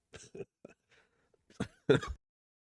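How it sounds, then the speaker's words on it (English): A few short coughs and a throat clearing, close and fairly quiet, separated by brief pauses. "getting over a cold. It's giving me a cough."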